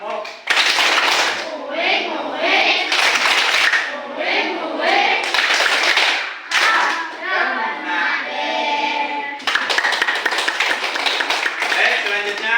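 A classroom group plays the tepuk nyamuk clapping game, with children clapping rhythmically in bursts mixed with chanting voices throughout, loud and close.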